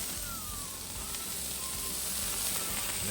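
Chopped onions dropped into a pan of peppers sizzling in oil, a soft, even hiss of frying that holds steady with no one speaking.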